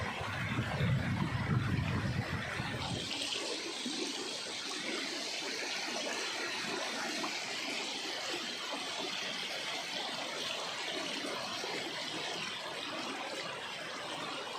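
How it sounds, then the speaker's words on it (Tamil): Water in a stream rushes and gurgles steadily nearby after a brief low rumble at the start, a continuous broad wash of flowing sound. "தண்ணி ஓ பாருங்கள் எப்படி ஓடுது பாருங்கள்"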